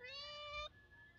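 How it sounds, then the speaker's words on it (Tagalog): A cat meows once, a short, faint, high call heard outdoors during a meal, followed by quiet. "mga pusa dito"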